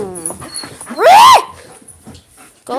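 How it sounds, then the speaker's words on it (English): A dog gives a loud, rising and falling whine, almost a howl, lasting about half a second, with quieter indoor sounds and faint background noise around it. "That's just my dog."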